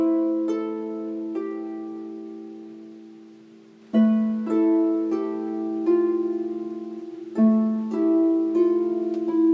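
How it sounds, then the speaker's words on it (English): A double strung harp plays four-note runs with both hands at once, descending like a scale: close, clear plucked notes ringing in groups with audible sustain, alone and unaccompanied. "So I'm going to try some 4-note runs. I'm going to let them come down the harp like a scale."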